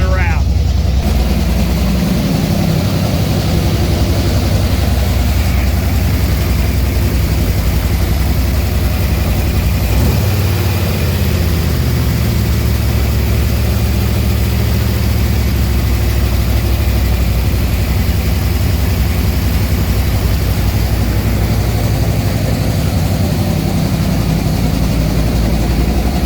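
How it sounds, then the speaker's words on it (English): A Ford engine fitted with headers and no exhaust runs loud and close, a steady low rumbling idle that never lets up. "it's got the headers on it but no exhaust yet, so it's really loud right up front"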